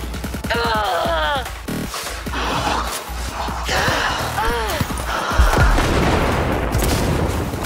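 Rapid gunfire from a firefight in Cyberpunk 2077, with bursts of shots and impacts mixed into busy game effects and music, while someone talks over the action.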